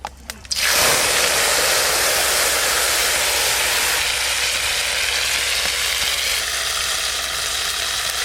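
Mustard paste mixed with turmeric hits hot oil in a wok with a sudden loud hiss, then crackles and sizzles steadily and intensely, close up, with no talk over it.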